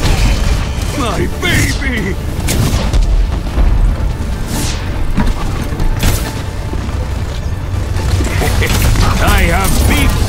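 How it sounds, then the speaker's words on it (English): Heavy booms and mechanical blasts of turrets being destroyed in Overwatch on the Route 66 map, dense and continuous, with game voice lines shouting over the explosions. "Attackers incoming. Turrets being destroyed!"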